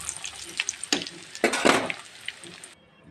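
Meat tikka kebab fries in a pan, with a close, crackling sizzle that swells as the pieces are turned, then cuts off abruptly.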